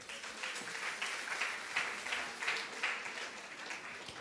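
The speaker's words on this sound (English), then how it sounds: "Clap yourself." Applause from a crowd at a Jamaican music and culture event, a steady wash of clapping that stays moderately distant and fairly quiet for the whole stretch, with no talking over it.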